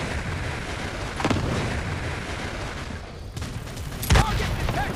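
Gunfire in the mobile video game Modern Strike, a continuous dense rumble of weapon fire with a couple of sharper bursts and a loud blast near the end.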